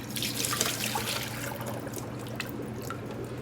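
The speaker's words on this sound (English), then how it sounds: "I'm gonna empty this water out." Water splashes and trickles steadily as it is poured off zucchini noodles, a continuous close pouring sound with faint drips.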